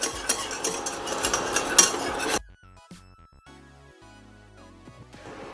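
A flour roux for chicken gravy is whisked constantly in a pan over medium heat. Quick, busy scraping and clinking last about two seconds, then give way to near silence with faint scattered taps.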